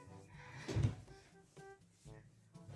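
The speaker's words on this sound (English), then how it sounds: "that door is open. I need to close that." A door in a home is shut with one soft, close thud, followed by quieter shuffling and handling noises.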